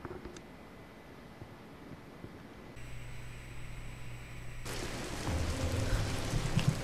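Steady rain patters and hisses in the Tomb Raider game, growing heavier and louder toward the end as the storm nears, with a low rumble underneath and no talking.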